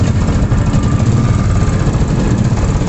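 A Royal Enfield Classic Chrome 500 motorcycle engine idles steadily up close, a continuous low, thumping rumble with even vibration throughout and no voices.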